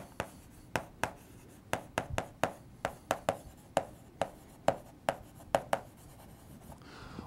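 Marker or chalk taps and strokes sound on a board as numbers are written, in an irregular series of crisp, close clicks spread over several seconds with no talking.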